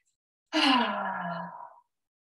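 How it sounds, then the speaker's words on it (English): A single forceful exhalation through the mouth during a yoga breathing exercise, a breathy sigh-like outbreath lasting just over a second, close and clear, then silence. "Really hauling the breath out through the mouth."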